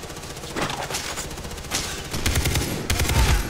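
Rapid gunfire in the Far Cry shooter, rattling machine-gun bursts with distinct rhythmic shots, close and loud, building to heavier, booming volleys in the second half.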